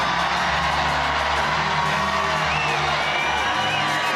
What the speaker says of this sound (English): Wow, this is a big crowd.